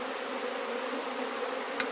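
Swarm of honey bees at an open hive, a steady close buzzing drone that stays even throughout, with one brief sharp tick near the end.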